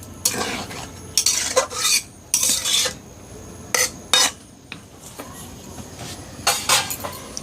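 Mutton curry stirred in a pot, a spoon scraping and clinking against the metal in several separate bursts with brief pauses between, close by and fairly loud with no talking.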